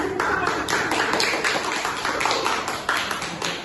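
A group claps their hands in a dense, steady burst of applause, close and continuous for several seconds, with no talking over it.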